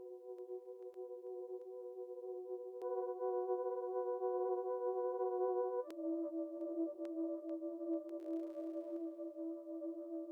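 A steady synth bass drone for bass music, with a gritty, distorted edge, its pitch dropping partway through while a filter subtly shifts the tone; no voices.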